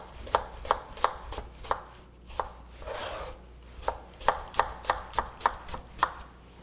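A knife chops the ends off lemons on a cutting board in a quick series of crisp, close taps, about a dozen sharp knocks in an uneven rhythm with a brief rustle in between.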